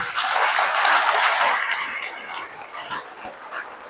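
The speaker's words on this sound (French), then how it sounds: "applaudissons très fort pour Jésus-Christ" Children applaud loudly at a church gathering, a dense wash of clapping that swells early and then thins into scattered claps toward the end.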